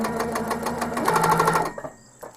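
A Handi Quilter quilting machine stitches through a quilt with a rapid, even run of close stitches for about a second and a half, then stops, leaving a few faint clicks.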